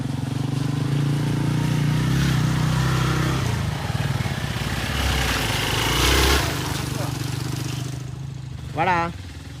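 A motorcycle engine labours on a ride to the Kattadipara view point, a loud, low, steady drone that eases and swells, with faint indistinct voices in the background.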